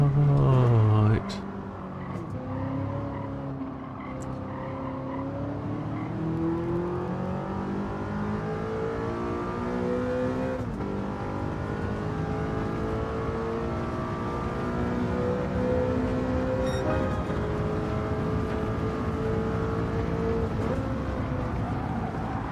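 Car engine in a racing video game time trial, revving steadily through the gears with rising and falling tones over about twenty seconds, a sharp gear change near the start, heard up close under occasional talk.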